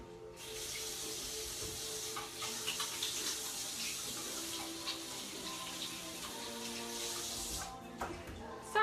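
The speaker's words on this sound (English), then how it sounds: "I'm gonna wash my hands." Steady running tap water splashing into a sink as hands are washed in a kitchen, a continuous hiss with faint clinks and shifts, close and moderately quiet.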